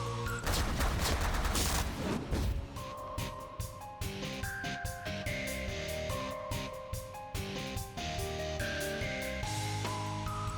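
Ship weapons in the space strategy game The Last Federation fire at turrets in dense, rapid volleys of booming shots layered over synthetic tonal game effects, loud and continuous throughout.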